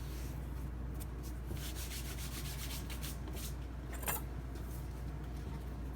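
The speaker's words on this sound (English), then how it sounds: "Just kind of rub that flour around." Hands rubbing flour over the top of bread dough, a soft, steady dry rubbing and brushing texture with a low background hum and no talking.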